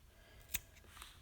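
A single quick snip of scissors cutting yarn at the end of a crochet piece, faint and close, over a quiet room background.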